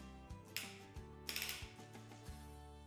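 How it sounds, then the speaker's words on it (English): A torque wrench clicks as the bottom screw is tightened on a Yakima LockNLoad SL adapter bracket, giving several faint, close mechanical clicks and ratcheting ticks in an otherwise quiet setting. "With the torque wrench, tighten the bottom screw until you hear the click"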